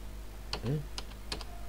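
Tab key pressed on a computer keyboard: a few quiet, crisp clicks spaced apart over faint room hum, with a brief low murmur between them.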